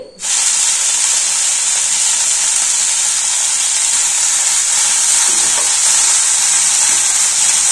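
Tender tamarind leaves frying in oil in a pan, with a loud, steady, hissing sizzle that starts abruptly and holds evenly for several seconds without talk.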